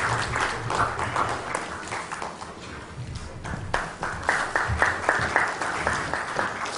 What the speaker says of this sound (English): A round of applause for our eminent